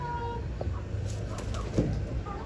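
Hens on a small poultry farm with about thirty birds, giving soft, scattered clucks over a steady background of farmyard noise, fairly close and moderately loud.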